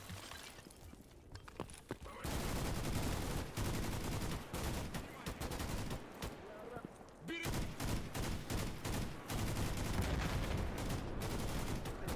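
Monolith gunfire in the video game STALKER GAMMA: dense, sustained automatic fire. Long loud volleys of rattling shots are broken by short pauses, with sharp single cracks at the start.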